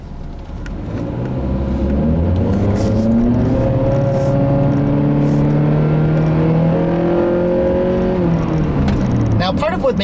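A 2015 Honda CR-V Touring with a direct-injection 2.4-liter engine and CVT pulls hard from low speed, its engine note rising smoothly and holding a steady drone for several seconds before easing off.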